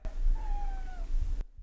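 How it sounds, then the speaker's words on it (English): A pet cat gives a single short, rising-then-falling meow, close and clear over a faint rumble of room noise. "That is a cat."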